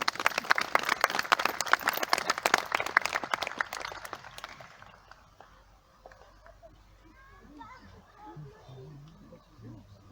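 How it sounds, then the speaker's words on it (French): Spectators at a heritage day dressage demonstration at the Château du Grand Jardin clap for rider Félicie and her horse Augusto, a lively burst of applause that fades after about four seconds into quiet outdoor ambience with faint sounds. "On applaudit Félicie et Augusto."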